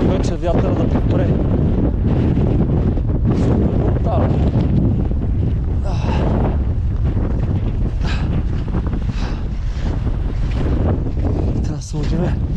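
Strong wind batters a microphone on a fog-bound, icy mountainside in the Rila range, a loud, constant roar with gusting surges, and a voice speaks beneath the blast.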